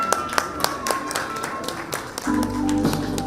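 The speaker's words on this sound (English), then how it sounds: "A round of applause for her." Scattered audience clapping at an Air Cargo Agents Association of India event, a few sharp claps in loose rhythm followed by a low steady hum, fairly sparse rather than a full ovation.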